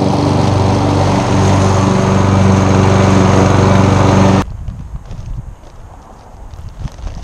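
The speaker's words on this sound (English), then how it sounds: "So I'm going to go ahead and cut the lawn, but I'm going to cut at 4 inches" A lawn mower engine runs loud and steady, close by, as it cuts a St. Augustine and Bermuda lawn set to a 4-inch height, then abruptly shuts off, leaving faint outdoor quiet.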